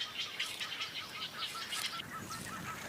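Wild birds in the Okavango wetlands calling together, with repeated honking and chirping notes in a busy chorus over a constant outdoor wash of sound, moderately near.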